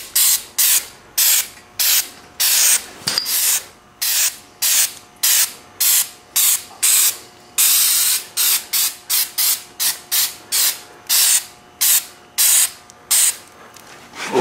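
Aerosol spray can applying black rock guard undercoating along the bottom of a Toyota Tercel, in a long series of short, loud hissing bursts separated by brief pauses, close to the microphone with no talking.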